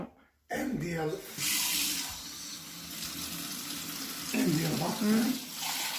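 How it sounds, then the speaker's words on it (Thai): Warm water runs from a kitchen tap into dough ingredients for a homemade Italian-style pizza, a steady, close hiss of flowing water after a brief silence, with a voice speaking over it. "ใส่น้ำนะคะน้ำ น้ำไม่ต้องร้อนนะคะประมาณอุ่นๆ"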